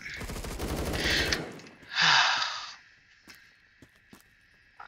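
Rapid automatic gunfire from Phantom Forces bursts loudly and close for over a second, then a second sharp blast follows, with scattered single cracks and faint echoes trailing off afterward.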